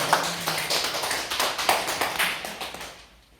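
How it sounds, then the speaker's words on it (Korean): A church congregation at a Palm Sunday service gives a short round of applause in praise of God. The claps are bright and close, rhythmic at first, then thin out and fade to quiet near the end. "하나님께 영광의 박수를 드립니다."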